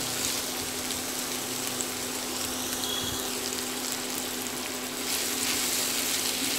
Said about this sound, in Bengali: সবজিগুলো মোটামুটি ভাজা হয়ে গেছে